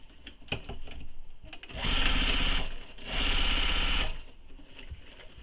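A sewing machine stitches a nylon bag gusset in two steady runs of about two seconds each, separated by a short pause, loud and close, with light handling noises before and after.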